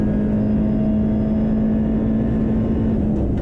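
Audi RS 3 TCR race car on the Nürburgring Grand Prix circuit, heard onboard as a loud, steady engine drone with a firm tonal hum and dense rumble throughout, no talking over it.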